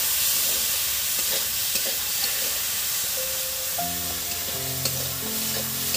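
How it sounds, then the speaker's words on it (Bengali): Soaked mung dal hits hot oil and spices in a pan, a steady loud sizzle with scraping stirs, and a few tonal kitchen beeps near the end. "আর এই ভিজিয়ে রাখা এই মুগের ডালটা দিয়ে দিলাম, ধুয়ে ভালো করে নিয়েছি।"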